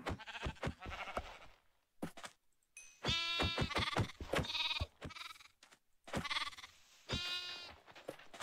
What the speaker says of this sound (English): I feel sad killing these the baby sheep and the mama sheep.